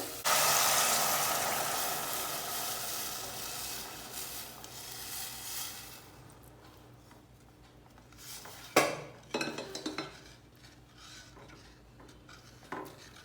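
Curd mixture stirred in a cooking pot: a loud wash of sizzle and scraping at first that fades, then scattered utensil clinks and knocks against the pot, fairly close.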